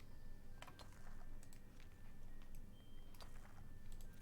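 Mouse clicks from play of the game RuneScape, a scatter of light, sharp ticks at an uneven pace, close and fairly faint over a steady low background hum.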